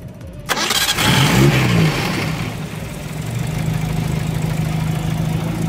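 A 1971 Datsun 1200 Sunny pickup truck, fitted with an electric fuel pump, cranks briefly and fires up, then settles into a smooth, even idle, loud and close with no talk over it.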